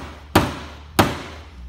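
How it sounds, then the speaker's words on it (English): A steel-faced hammer drives an HB Scout axle pin into its hole in two sharp, ringing metallic strikes about half a second apart, each loud and close with a short decay, over a faint background hum. "Hit it with a steel-faced hammer, get it started."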